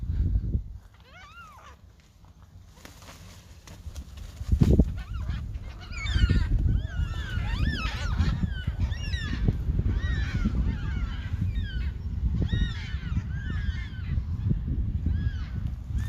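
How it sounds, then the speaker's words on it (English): Yellow-tailed black cockatoos calling in a reserve beside a desalination plant: repeated wailing, rising-falling screeches from several birds, some near and loud, others farther off, overlapping steadily over rustling background noise. "It's my favourite bird, the yellow-tailed black cockatoo."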